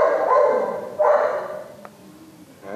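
Dogs bark up close, two loud yapping bursts about a second apart, with a fainter yip at the very end.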